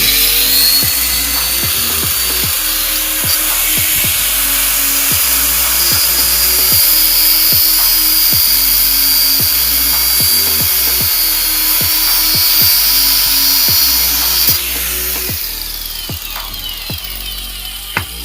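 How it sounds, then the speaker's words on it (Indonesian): A power grinder cuts through the shaft of a Tiger 31 motorcycle shock absorber with a loud, steady, high-pitched metallic whine and grinding that runs close up and unbroken, tone shifting slightly as the disc bites. "lanjut Mas Mono, kita memasuki pemotongan dengan gerinda ya"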